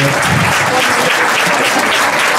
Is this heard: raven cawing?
no